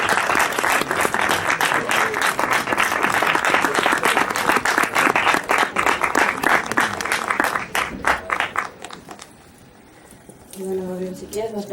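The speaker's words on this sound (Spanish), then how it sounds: "Denles un fuerte aplauso." Loud applause from a film festival conference audience, steady dense clapping for about eight seconds before thinning out and fading, followed by a brief quiet stretch and a faint voice at the end.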